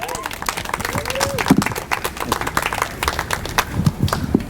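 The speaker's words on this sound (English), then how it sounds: "Please join me in giving the students a warm round of applause." Audience applause for students at a new school learning garden at Kuumba Academy, a steady patter of clapping that runs throughout with voices murmuring underneath.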